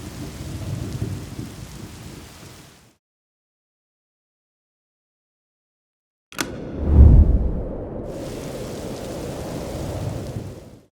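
Steady rain hiss cuts out to total silence, then returns with a loud, close crack and rumble of thunder that settles back into continuous heavy rainfall, a sound effect laid under an edited scene transition.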